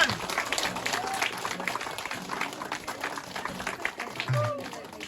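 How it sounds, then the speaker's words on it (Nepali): Wedding guests at a Christian ceremony clap together, a moderate, continuous patter of hands with some room murmur mixed in. "ताली बजाइदे सबैजना"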